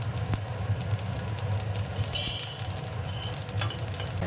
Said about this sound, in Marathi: राई जिरं व्यवस्थित तडतडून द्यायचं आहे